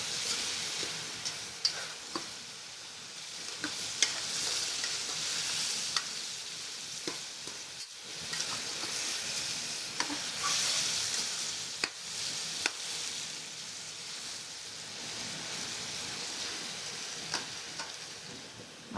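Steady sizzling of chicken stir-frying in a pan, with occasional clinks and stirring scrapes, close and continuous.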